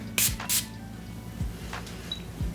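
Two quick hissing sprays from a fragrance atomizer, close and sharp, followed by faint handling clicks and light bumps.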